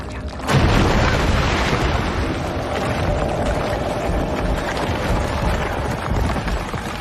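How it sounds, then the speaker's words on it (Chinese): A bomb explosion: a loud, sustained roaring blast rumbles in suddenly after a brief quiet start, then continues as a dense, heavy noise throughout. "那为什么还会爆炸？"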